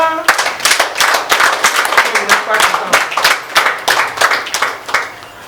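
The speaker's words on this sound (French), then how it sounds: "Applaudissez pour ça." Supporters clap at an Union Progressiste le Renouveau party rally in Dassa-Zoumé, loud close rhythmic clapping in distinct repeated bursts, with a voice speaking over it.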